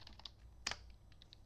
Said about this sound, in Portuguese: Agora eu vou digitar meu nome aqui.